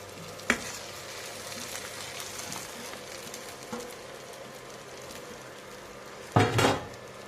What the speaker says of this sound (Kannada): ಮ್ಯಾಗಿ ಹಾಕಿ ಚೆನ್ನಾಗಿ ಮಿಕ್ಸ್ ಹೊಡೀರಿ.